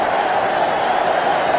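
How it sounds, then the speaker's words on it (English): Cricket crowd cheering loudly and continuously at an Indian team run chase, a dense sustained roar with no break. "The crowd is delirious."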